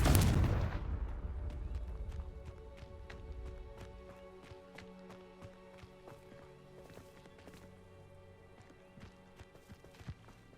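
A Confringo blasting spell cast in Hogwarts Legacy bursts out as one loud, close explosion that rings and fades over a few seconds, followed by scattered light clicks and taps over a low game ambience.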